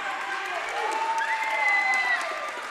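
A crowd at a girls' high school basketball game applauds, a steady spread of clapping with squeaky tonal sounds above it, moderately loud and continuous.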